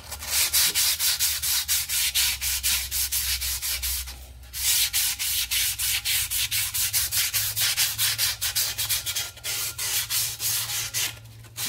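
150 grit abrasive cloth roughing up a handbrake shoe on a Land Rover Defender: loud, close, rapid back-and-forth sanding strokes in a steady rhythm, with two short pauses.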